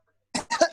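Several quick, close coughs in a burst during an online lecture on civil procedure law, following a short silence, with no talking over them.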